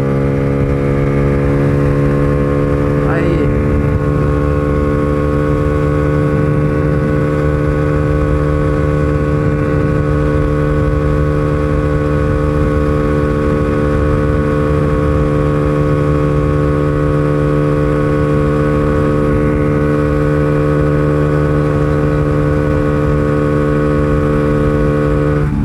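Honda Pop 120 motorcycle engine held at high revs in fourth gear near 8,000 RPM, a loud, sustained, steady drone with strong harmonic tones throughout and wind roar beneath.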